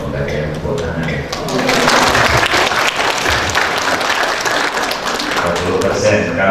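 Graduation ceremony audience applauding, a dense burst of clapping that swells after a brief spoken lead-in and continues steadily and loudly to the end.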